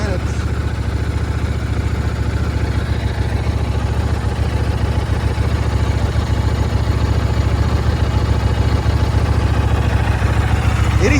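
A 2009 Buell 1125R motorcycle idles steadily while still warming up, a loud continuous low engine drone that stays even for the whole stretch with no revving.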